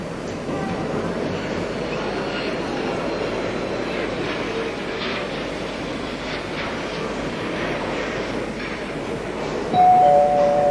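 Ambience at Zagreb Airport in 1977, with a steady loud roar of aircraft engines filling the air and a brief chime-like tone rising near the end.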